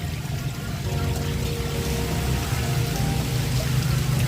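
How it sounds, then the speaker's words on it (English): Steady rushing water from a waterfall, a dense continuous broadband wash with a strong low rumble, constant and fairly loud throughout with no talk. "I'm relaxing with this chair and the sound of the waterfall."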